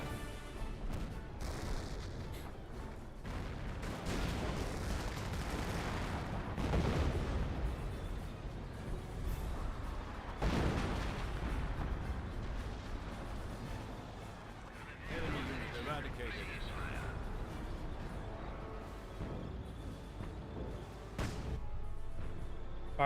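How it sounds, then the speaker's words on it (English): Artillery fire in the Company of Heroes strategy game: scattered heavy booms and blasts among battlefield noise, some loud and near, others duller, under almost continuous commentary. "Sector artillery in this region."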